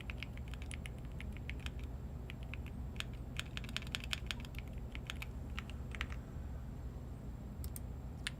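Fairly faint keystrokes clatter on a computer keyboard in uneven bursts of quick clicks over a low steady hum, with no voices.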